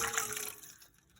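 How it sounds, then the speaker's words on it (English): About two cups of pot roast broth are poured into a saucepan, a brief close liquid splash and pour that fades out within a second. "I took out about almost 2 cups of the broth. I'm gonna pour it into a saucepan."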